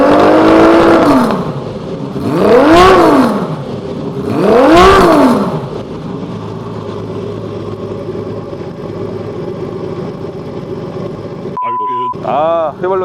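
Kawasaki KZ1300 six-cylinder motorcycle engine revving up twice in strong rising-and-falling sweeps, then settling into a steady, close idle rumble with a brief mechanical change near the end.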